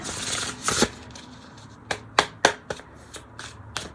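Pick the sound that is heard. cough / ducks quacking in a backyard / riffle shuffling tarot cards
riffle shuffling tarot cards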